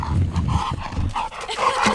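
A pet dog barks and yips several times in short bursts at a national park overlook, fairly close, with no talk over it.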